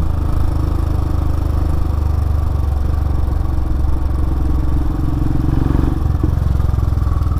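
A 2018 Royal Enfield Himalayan motorcycle engine rumbles loud and close, a thick steady idle throb holding throughout with a slight shift in tone near the end.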